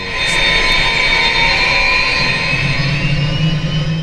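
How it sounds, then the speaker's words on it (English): Shrike 530F helicopter engine in the MSFS flight simulator spooling up on start, a steady high-pitched turbine whine over a loud broadband roar with a low hum rising near the end, close and continuous with no talk. "The right time to roll the throttle is just as it starts to make the high whining noise"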